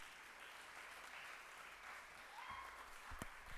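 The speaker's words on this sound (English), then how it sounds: "Please give these ladies a round of applause." Audience applause at the Nation of States pageant 2021, a steady wash of distant hand clapping from a crowd with a few louder claps near the end.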